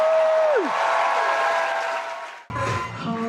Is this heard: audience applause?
yes